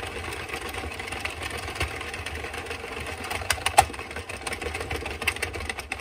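An Addi Express Kingsize knitting machine works cotton yarn with a continuous mechanical whir and scattered clicks and clacks from the carriage, fairly close and without speech.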